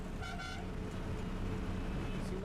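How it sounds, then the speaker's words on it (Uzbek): Vehicle horns honk on a highway at night on the road between Delhi and Jaipur, India, with a pair of short toots standing out early over steady, loud traffic rumble. "Ularning signali ham qorong'u tunni boshiga ko'tarib bovillaydi."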